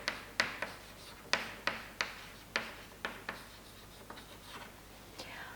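Short tapping strokes of chalk or a pen writing a chemistry formula for a metal hydroxide, about a dozen crisp close clicks and scratches in an irregular rhythm, with no talk.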